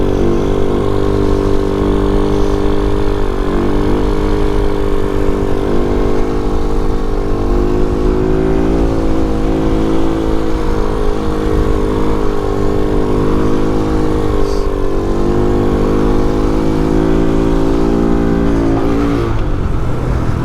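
Vader 125 Grom-clone motorcycle pulling a wheelie in third gear, a loud, steady engine drone held close and continuous for the whole stretch, with slight pitch wavers and a shift in tone at the end.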